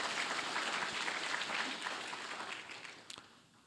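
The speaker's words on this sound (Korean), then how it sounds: "우리 한번 박수를 한번 보내봅시다" A church congregation claps during a Sunday worship service, a moderate wash of applause that gradually thins and fades out near the end.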